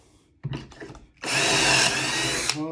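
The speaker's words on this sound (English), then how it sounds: "drilling these holes on each end of the material" A few brief knocks and rattles, then a power drill whirs loudly and steadily, boring pocket holes into wood through a jig for over a second before spinning down.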